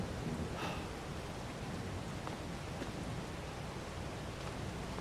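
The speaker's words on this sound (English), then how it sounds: "how long is it going to rain for?" Steady rain falls in the farming game Farming Simulator 22 during harvest season, a faint, even hiss of drops on surfaces with no break, low in level and unaccompanied by voices.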